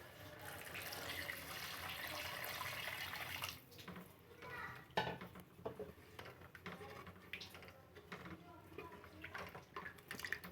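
Water poured into a pan of roasted black chickpeas while cooking a chickpea curry, a steady splashing pour for about three and a half seconds, then scattered clinks and kitchen sounds close by.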